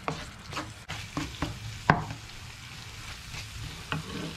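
A curry puff filling of potato and Spam sizzles in a frying pan, a steady close crackle broken by several sharp clinks and scrapes of a spoon stirring, with no talking.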